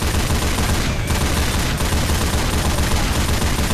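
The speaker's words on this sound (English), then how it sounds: "Oh god, this is like an extreme caliber turret." A heavy-caliber turret firing at zombies in Left 4 Dead 2, a loud, relentless stream of booming shots packed tightly together and continuing without pause throughout.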